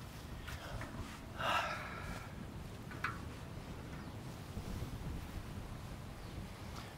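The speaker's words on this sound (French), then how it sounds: "Il y a un peu de vent, donc on verra ce que ça donne." Wind rushes and buffets against the microphone in low rumbling gusts beside a pond, with a couple of brief louder bursts, all under a steady outdoor roar.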